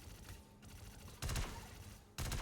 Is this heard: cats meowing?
no